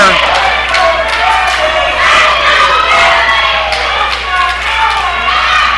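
A loud, dense wrestling crowd cheers and shouts at a bullrope match in an indoor arena. The roar stays steady and close, with whoops and yells rising out of it and a commentator's voice mixed in.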